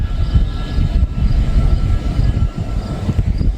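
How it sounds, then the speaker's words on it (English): Train in a tunnel, a continuous loud low rumble and roar with no talk. "I heard a train, but I don't know where it is."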